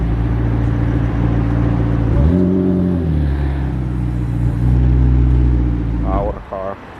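A McLaren 765LT supercar passing at night: a loud engine note sweeps up and falls away, then settles over a continuous low drone from the following car, with a voice speaking near the end.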